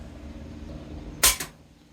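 Air rifle firing a single pellet at a paper target during scope testing with a 16-year-old rifle: one sharp, fairly close crack with a brief tail, otherwise quiet background.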